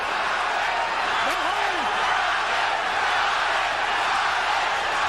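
The arena crowd at the Julio Cesar Chavez vs Meldrick Taylor boxing fight roars in a loud, unbroken wash of noise, with a single shout briefly rising above it.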